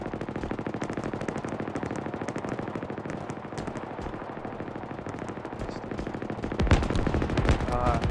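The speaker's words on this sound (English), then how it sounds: "Yeah, I'm getting shot at by a turret." Turret gunfire in a first-person shooter game, rapid continuous bursts aimed at the player, loud and sustained throughout with a heavier, denser burst near the end.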